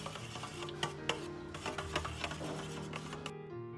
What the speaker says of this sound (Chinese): 然后用勺子稍微搅拌下。